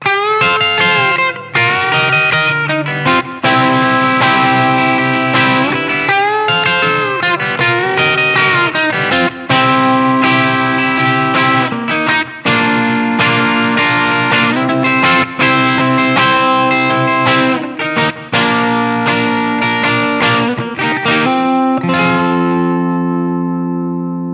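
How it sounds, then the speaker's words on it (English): A twangy Fender Telecaster on its bridge pickup, lightly overdriven, plays chords and licks steadily for about twenty seconds, then lets a final chord ring out. "let's start again in the bridge position. I might put the light speed on again for a little bit of dirt"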